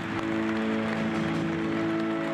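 Dense, sustained applause from a large audience at a Volkswagen event for chief executive Martin Winterkorn, steady clapping filling the hall with a faint tonal hum beneath.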